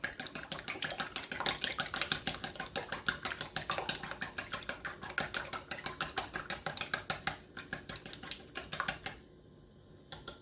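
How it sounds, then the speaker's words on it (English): Chopsticks whisk a soy sauce mixture in a bowl, producing rapid, continuous close-up clicking and tapping strokes in a fast steady rhythm that stop near the end. "we're just going to take our chopsticks and whisk those up"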